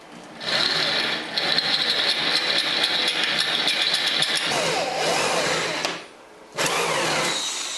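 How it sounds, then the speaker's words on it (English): A variable speed drill with a touchy trigger bores holes in wood, giving a steady, close whirring whine that runs for several seconds, cuts out briefly, then starts up again. "It's a variable speed drill, but it's got a kind of a hair trigger on it."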